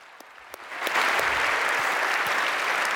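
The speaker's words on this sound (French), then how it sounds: "Applaudissons-les." A few scattered claps, then an audience breaks into full applause at a church gathering, swelling into a loud, even roar of clapping that holds to the end.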